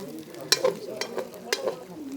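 Dhekia saag, a wild fern green, frying in a pan with local chicken, ginger, garlic and green chili. Sharp stirring scrapes and clatters come in bursts over a steady, moderate sizzle, with no talk.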